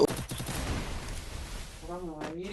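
Rapid bursts of gunfire from the Free Fire battle royale game ring out near and loud, with a voice talking over the shots.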